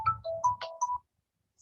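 A phone ringtone chimes during a finance class lecture, a short bright melodic electronic tune of a few rising and falling notes lasting about a second, then cutting off to silence.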